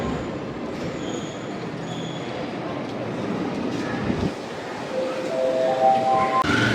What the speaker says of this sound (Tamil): இது வந்து உள்ளூர் ட்ரெயின் மெட்ரோ மாதிரி தான் கிட்டத்தட்ட